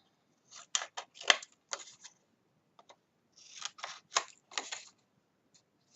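Scissors slice through card at a bevelled angle while making a handmade memories box and booklet, a burst of quick crisp snips, a pause with two faint ticks, then another run of close, dry cuts.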